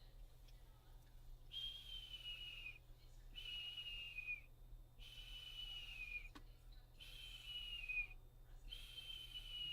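A person whistling outdoors to imitate a hawk's call: repeated descending high whistles, about four spaced calls in a row, clear and fairly close over low background rumble.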